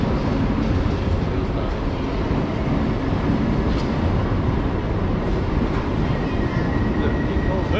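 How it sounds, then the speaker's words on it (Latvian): A double-decker passenger train in Georgia rumbles steadily along the rails, a continuous close rolling roar with faint rhythmic clatter from the wheels, unbroken throughout. "tāda ar šo divstāvīgo vilcienu, kas mums šorīt ir aiz muguras"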